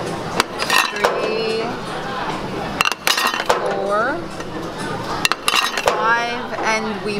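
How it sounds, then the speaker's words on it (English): Sushi plates clinking and clattering as they are returned at a conveyor belt sushi restaurant in Osaka, Japan, repeated sharp knocks and chimes over restaurant chatter, with people talking nearby. "we're about to return our dishes"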